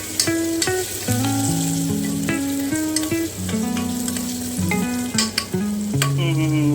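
Spices tempering in hot oil for khichdi, a steady sizzle running under bright, stepping background music throughout.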